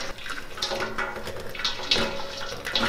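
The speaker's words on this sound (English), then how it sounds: "So what I'm gonna do is pour this around the edges of the pan" Boiling water poured around the edges of a pan to sterilize it before handling raw fresh cow's milk, a steady close splashing trickle with small bubbly surges.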